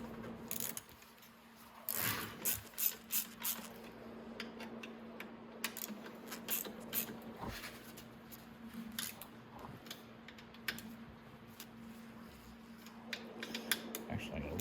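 A ratchet tightening steering column clamp bolts on a Venom E-Madix 1300w electric ATV, close quick clicking bursts in short runs with scattered metallic taps and a steady low hum beneath.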